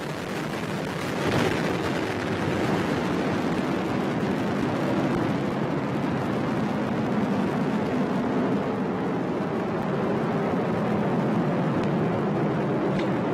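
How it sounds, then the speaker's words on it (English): An Atlas rocket lifts off carrying Boeing's Starliner capsule, its engines producing a steady, dense, broadband roar that holds loud and unbroken throughout without any voices. "2, 1, and liftoff. Starliner is headed back to space on the shoulders of Atlas"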